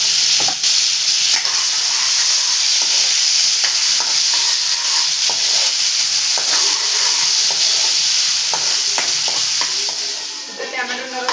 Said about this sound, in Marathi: तेल टाकून झालाय तेल टाकू टॉमॅटो टाकू